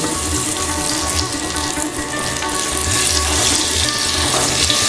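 Rohu or katla fish frying in a pan, a continuous loud, close hiss and crackle of oil that stays steady throughout with no voices.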